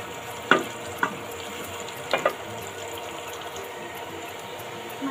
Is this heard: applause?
no